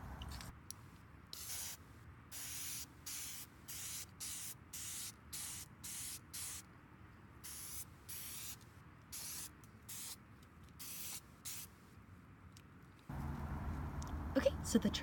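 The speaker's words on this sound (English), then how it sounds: "So first things first, I'm going to spray the back gold." Gold spray paint hissing onto the back of an IKEA serving tray in a long series of short, close bursts separated by brief pauses, ending with louder handling noise.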